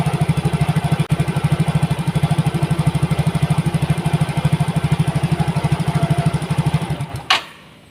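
A Yamaha Mio GT motorcycle engine runs at a close, loud, steady idle with a fast regular putter, then cuts off abruptly near the end.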